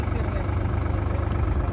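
A tractor engine idles nearby, a steady low rumbling throb that runs without a break through the whole short stretch.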